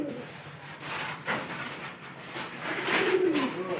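Pigeons kept in an indoor loft coo in low, rolling calls, with a gentle swell near the end, over a steady hum of room noise.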